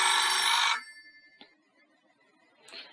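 An online food-ordering system's new-order alert rings loudly in a single burst, then cuts off to near quiet, with a soft click and a faint brief rustle after.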